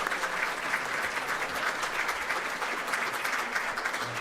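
An awards ceremony audience applauds steadily, a dense, even wash of many hands clapping throughout, with no voices standing out.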